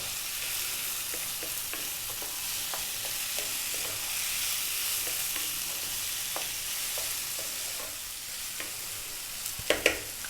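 Chana dal rice frying over high heat, with a steady broadband sizzle and regular scraping stir strokes throughout, plus a couple of sharper utensil knocks near the end; no voices.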